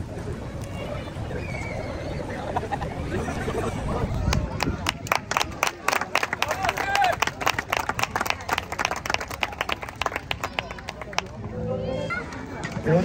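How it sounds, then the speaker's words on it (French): An audience at a BJJ superfight event applauds the winner, with sustained clapping and crowd noise building up and then tapering off. "Et on applaudit comme il se doit le vainqueur"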